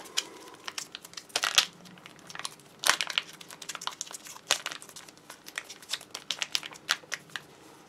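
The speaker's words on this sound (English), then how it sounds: "I shall knead the peanut butter smooth peanut butter give it a little knead" A sealed foil pouch of smooth peanut butter from a 2015 British Army ration pack being kneaded by hand, giving close, irregular bursts of crinkling and crackling with short pauses between squeezes.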